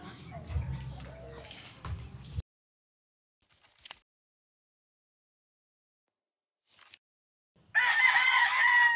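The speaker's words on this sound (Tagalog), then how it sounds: "Bakit ang daming manok?" Chickens and a rooster kept at a house, crowing and clucking loudly in a dense burst at the end after quiet gaps, with people talking at the start.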